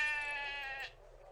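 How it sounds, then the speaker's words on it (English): A single sheep bleats in the Trade Empires video game, a quavering, fairly faint cry that lasts under a second and then stops. "That was a bit noisy with those sheep."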